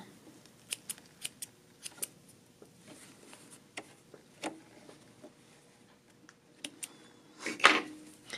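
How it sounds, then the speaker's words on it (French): Scissors snip the starting threads at a sewing machine during tunic sewing, a scattering of sharp close clicks and cuts in a quiet room, with one louder rustle near the end. "je viens couper mes fils de départ"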